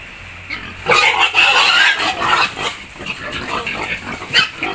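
A fattening pig squeals in loud, harsh bursts while being caught for sale on a farm, with rustling struggle noises and a brief voice nearby.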